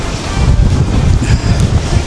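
Steady wind rushing across the microphone, a low gusty rumble with buffeting that holds throughout without any talking.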